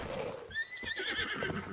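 A horse in the video game Breath of the Wild gives a clear rising whinny over a soft bed of clip-clopping hooves, close and moderately loud.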